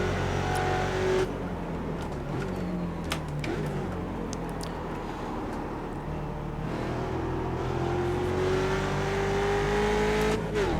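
Ford Mustang race car from the Mustang Challenge at Mid-Ohio in iRacing, engine held at full throttle out of a turn, a steady loud drone with the rising whine of climbing revs and shifts, without talk.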